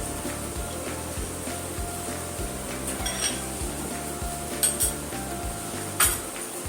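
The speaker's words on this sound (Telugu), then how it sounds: "ఈ చాప్డ్ గార్లిక్ 2 స్పూన్స్ బటర్లో యాడ్ చేసుకుంటున్నాము" Chopped garlic frying in two spoons of butter for cheese pasta, with a steady soft sizzle beneath repeated close metallic clinks and scrapes of a utensil against the pan, and brighter clatters near the end.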